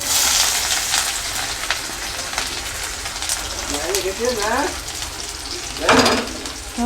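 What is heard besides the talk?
potatoes frying with onion in a pan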